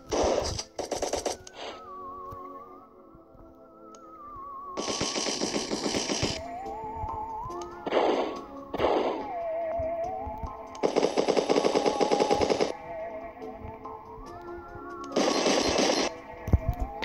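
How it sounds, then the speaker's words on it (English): Rapid bursts of video game gunfire fire in several separate volleys of one to two seconds each, loud and close, with a steady electronic tone and game sounds running underneath between the bursts. "So this is the gun. I'm gonna show you while shooting them."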